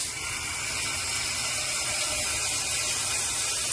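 Water from a shower in a small apartment bathroom runs in a loud, steady hiss that splashes continuously and without pause, close to the microphone.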